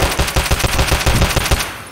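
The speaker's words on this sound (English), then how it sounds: "Why are they shooting at each other?" Automatic gunfire in the video game Escape from Tarkov, a rapid, loud burst of shots firing in quick rhythmic succession for about two seconds, with no talk.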